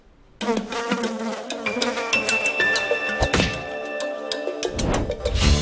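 An Aedes aegypti mosquito buzzes loud and close in a steady, wavering drone that starts abruptly and continues with a few sharp knocks mixed in.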